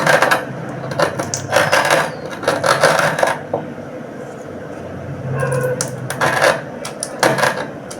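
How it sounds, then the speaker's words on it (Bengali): Cardamom pods and sugar are ground into powder in short, loud, rasping bursts with brief pauses between them, close up in a home kitchen. "এখানে আমি দুটো এলাচ আর চিনি নিয়েছি তো এই দুটোকে আমি এখন ভালো গুঁড়ো করে নেব"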